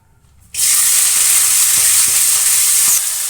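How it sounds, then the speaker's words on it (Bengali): Potato, onion, peas and green chilli hit hot oil in a kadai and sizzle loudly and steadily, a dense bright frying hiss with faint stirring knocks, no talk. "এই যে একটু ভাজা ভাজা করে নেব"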